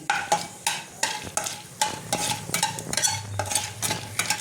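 Whole black peppercorns, cinnamon, cardamom, cloves and mace sizzle in hot oil for Lucknow-style paneer biryani while a spoon stirs and scrapes the pan in regular strokes, roughly once or twice a second, close up, with no voices.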